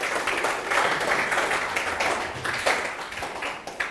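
An audience at a UPSC workshop gives a round of applause, a dense, steady patter of clapping that swells and fades slightly in waves.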